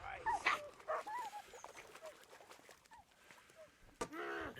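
A dog barks in the medieval video game Kingdom Come: Deliverance, a few short, close barks and yelps scattered among clattering game sounds.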